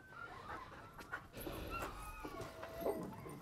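A sled dog in Greenland pants quickly and breathily at close range, with a few faint whimpers and some outdoor background noise.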